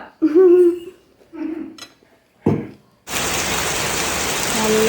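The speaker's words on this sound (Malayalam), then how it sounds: "മഴ പെയ്തോണ്ടിരിക്കുക കേട്ടോ" Rain falling steadily outside a house, a dense broadband hiss that starts abruptly and continues evenly; before it, people talk and other short household noises are heard.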